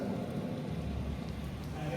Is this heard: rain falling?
yes